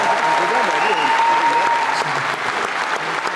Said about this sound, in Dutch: een groot applaus voor Stelte Truus